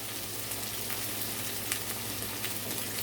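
Onions and scallion sautéing in a pot, a soft steady sizzle with faint crackles throughout, fairly quiet and with no talking.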